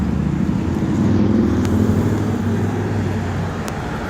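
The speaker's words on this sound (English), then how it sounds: "Holy loud truck." Heavy traffic noise as a loud truck rolls past on the road, a continuous close engine and tyre roar lasting several seconds with no talking.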